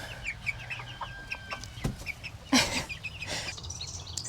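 Ten-week-old young hens cluck and chirp softly nearby, with scattered short calls and a louder squawking burst near the end, no talking.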